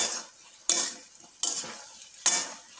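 Jackfruit chilli being mixed with sauce in a pan, three distinct loud scraping stirs spaced about a second apart over a faint background sizzle, close by, with no one talking.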